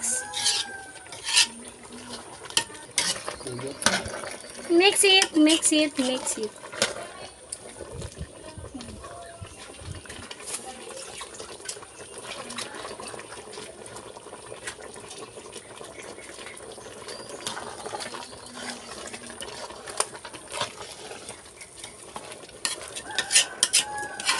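Spoon scraping and clinking against a pot while flour is stirred into a simmering goat stew, with irregular metallic taps and a soft bubbling background, close and moderately loud.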